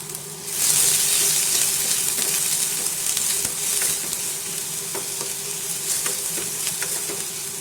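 Curry leaves and carrot fry in a pan with a loud, continuous sizzle and stirring scrapes, starting abruptly and holding steady with no voices.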